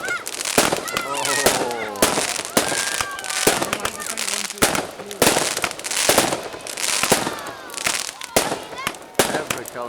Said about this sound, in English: Every colour coming up. So many fireworks.